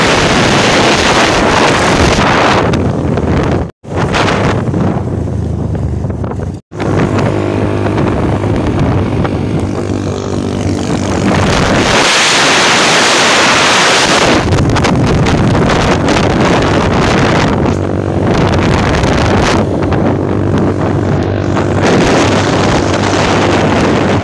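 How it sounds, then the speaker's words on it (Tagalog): On a long motorcycle ride toward Mayon Volcano, heavy wind buffets the microphone over a steady engine drone, loud and continuous, with two brief dropouts. "Nagmotor lang kami."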